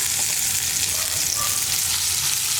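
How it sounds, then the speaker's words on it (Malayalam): Masala-coated potatoes sizzle in hot oil in a wide pan, a steady dense frying hiss with soft bubbling that continues evenly throughout, with no voices. "ഇനി ഇതേ എണ്ണയിലേക്ക് തന്നെ നമുക്ക് നമ്മൾ മസാല പുരട്ടി വെച്ചിരിക്കുന്ന ഉരുളക്കിഴങ്ങ് ചേർത്ത് കൊടുക്കാം"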